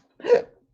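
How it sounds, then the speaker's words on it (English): A single sharp hiccup from a person, one brief abrupt vocal burst lasting well under half a second, close and clear against silence. "Hiccups."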